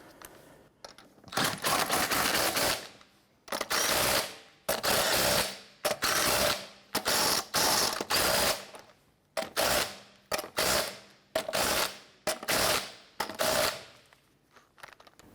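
A ratchet snugs down bolts on the tie rod of a 1999-2004 Jeep Grand Cherokee, loud close clicking in repeated bursts of about a second each, separated by short pauses, with no voices.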